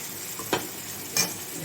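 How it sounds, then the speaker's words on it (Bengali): Prawns sauté with ground cumin and coriander in a pan, giving a steady sizzle with two brief stirring scrapes. "জিরে গুঁড়ো ধনে গুঁড়োটাও আমি চিংড়ি মাছের সঙ্গে একটু কষিয়ে নিলাম"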